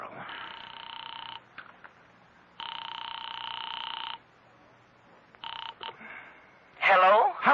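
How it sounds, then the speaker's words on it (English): An old-time radio drama plays telephone tones: two long ringing buzzes with short beeps between them, then a rapid warbling electronic burst at the end, all clear and close against a quiet background. "I am actually ringing North Tacoloma City."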